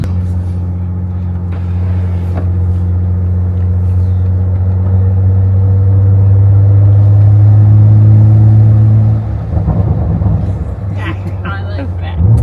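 A Porsche Macan Turbo facelift drives along with a loud, steady low engine drone that swells slightly, then eases off as the car changes pace. People speak briefly near the end.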